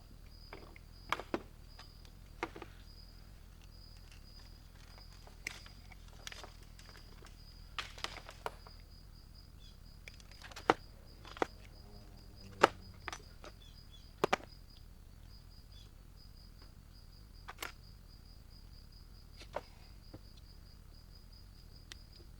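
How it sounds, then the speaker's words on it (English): Faint, steady high cricket chirping drones through a quiet night scene, punctuated by scattered sharp clicks and knocks in the foreground. "It is that wonderful cricket time of year again."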